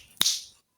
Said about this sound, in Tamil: சொடக்கு போட்டு கூப்பிடுறீங்க